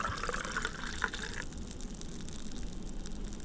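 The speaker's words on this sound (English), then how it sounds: "Listen to the bubbles." Fizzing bubbles in a freshly poured drink, heard as a soft crackling hiss with a few brighter pops at first that thin into a faint, steady effervescence close by.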